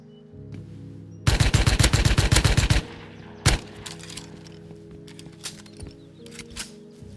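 Rapid burst of SKS rifle fire in the survival game Rust, a dozen or so sharp cracks in quick succession, followed by a single louder shot and a few scattered fainter reports against a quiet background.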